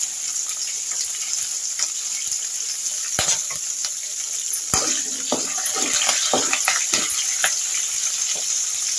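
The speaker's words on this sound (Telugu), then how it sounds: "సరేనండి, పచ్చిమిర్చి అయితే వేగాయి కదా" Green chillies and curry leaves frying in a pan for snake gourd pickle, a steady hiss with scattered sharp crackles and stirring clicks, no talk.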